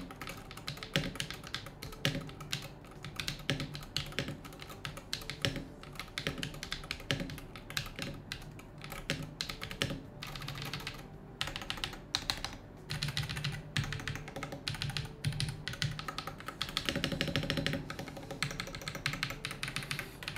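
Rapid typing on a Luminkey Magger68 HE mechanical keyboard, a dense run of crisp clicks and clacks close up, continuing steadily with no voices.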